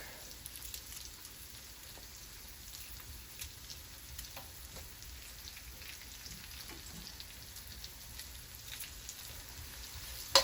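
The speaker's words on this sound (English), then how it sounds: "now I'm adding 3 cloves of garlic" Three garlic cloves sizzling in a hot pan for Jamaican-style steamed fish with okra, a steady crackling fry like light rain, close and even, no talk.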